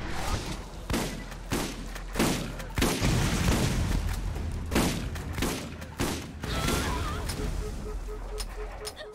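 Guns fire in a Borderlands game, a loud close burst of repeated shots with dull thumps between them, spaced across the clip in an uneven rhythm, with a player's voice faintly underneath.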